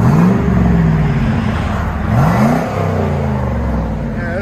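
A 1993-2002 Chevy Camaro Z/28 with a 5.7L V8 revs through its aftermarket exhaust, loud and close, with a deep rumble rising and falling in a couple of throttle blips.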